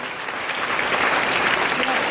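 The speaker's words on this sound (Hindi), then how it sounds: "लेडीज लोग के लिए जोरदार ताली होना चाहिए" A crowd gathered at a meeting gives a dense round of clapping for the ladies present, steady and fairly loud throughout the short burst.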